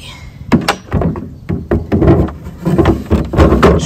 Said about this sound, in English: Let's put this drawer in.